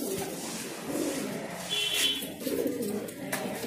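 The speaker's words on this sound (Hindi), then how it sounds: "देख सकते हो आप लोग ये कबूतर है" Pigeons coo inside a pigeon shop in Delhi as a bird is let go, their low burbling calls repeating close by over a busy room murmur.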